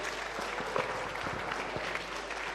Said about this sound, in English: Let's put our hands together for Mr. President